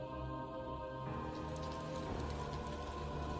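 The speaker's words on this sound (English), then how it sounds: "The monsoon rain feeds the tropical flora and fauna." Heavy tropical monsoon rain pours steadily in a forest, a dense, continuous hiss of drops on leaves and ground, loud and even throughout.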